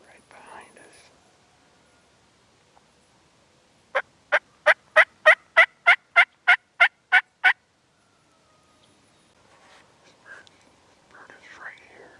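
A wild turkey in spring woods: a close run of about eleven evenly spaced, loud calls, with hushed whispering before and after.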